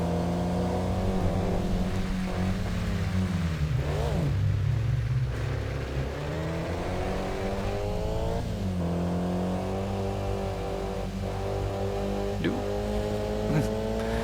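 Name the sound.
race car driving in Kaido Racer video game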